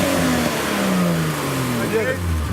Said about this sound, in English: I can always give you just that sound of the car